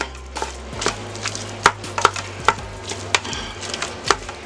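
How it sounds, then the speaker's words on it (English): Hot Italian sausage chopped up with a utensil as it browns in a pot on sear mode, a steady series of sharp, near scraping taps against the pot bottom over a low hum. "Two pounds of hot Italian sausage. And we're going to chop this up."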